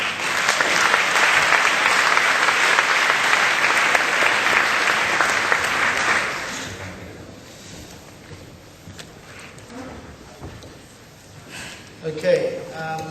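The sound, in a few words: audience applause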